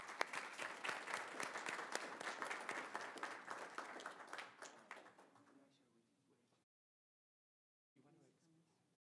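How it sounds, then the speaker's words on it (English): A school board meeting audience breaks into loud, sustained applause that tapers off over several seconds, followed by silence and faint room noise. "So big round of applause to Cheryl Tapia."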